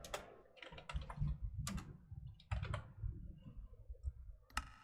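Fingers type on a computer keyboard in quick, uneven bursts of close clicking with short pauses between runs, fairly quiet and alone.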